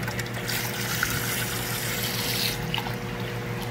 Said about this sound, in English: We're going to add a little bit of ammonia remover and then start adding fresh water.